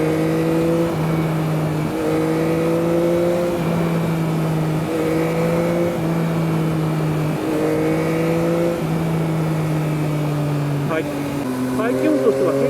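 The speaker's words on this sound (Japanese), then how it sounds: "よく聞いていただくと、やはり4気筒とはちょっと違うエンジン音だなということがお分かりいただけるのではないかと思います。" A Yamaha MT-09 inline three-cylinder motorcycle engine drones continuously at highway speed, its pitch rising and falling through repeated throttle and gear changes, with heavy wind rush throughout.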